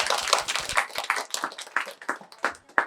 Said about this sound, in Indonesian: Tepuk tangan dulu buat Mas Bambang